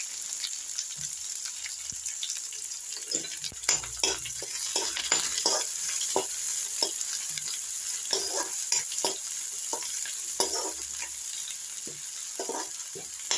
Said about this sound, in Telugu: పన్నీర్ బౌల్స్ ఫ్రై చేసిన ఆయిల్లోనే ఆనియన్స్ వేయండి.